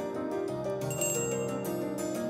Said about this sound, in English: The ground begins to shake, accompanied by a ringing of bells.